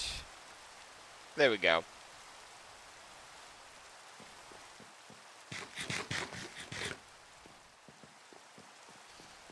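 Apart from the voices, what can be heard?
rain falling in Minecraft video game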